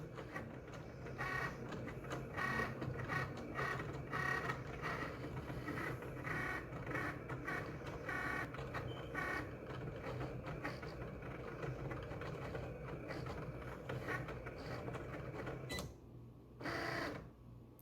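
A Cricut cutting machine slices vinyl on its mat with a steady mechanical whirring and clicking carriage noise that runs close and continuous, then cuts off briefly and resumes near the end.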